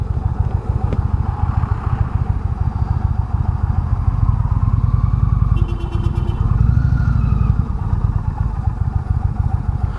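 A 2019 Indian Chieftain Limited motorcycle with stock exhaust idles steadily nearby with a low, even rumble, revving slightly midway while faint clatter sounds around it.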